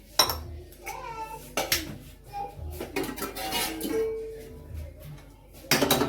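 Metal pot lid set onto a cooking pot of milk in a home kitchen, with sharp clanks and clinks of metal on metal between stretches of someone talking nearby.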